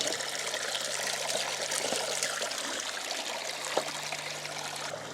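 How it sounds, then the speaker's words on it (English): Creek water trickles and burbles steadily into a Coanda screen at a micro hydro intake, a continuous close wash of flowing water with faint low hum beneath and no talking. "So now we have the water returning back down the creek, going into the Coanda screen"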